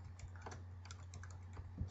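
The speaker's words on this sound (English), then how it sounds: "I'm going to type in" Quiet, rapid typing on a computer keyboard, entering a website address: irregular soft key clicks over a steady low electrical hum, with no voice.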